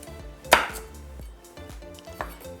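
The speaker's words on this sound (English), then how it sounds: "The first thing I'm going to do is chop the celery, and we're going to want that chopped fine." A knife chops celery finely on a cutting board, with one sharp loud chop followed by softer, irregular cuts and a second clear knock near the end, close up with no talking.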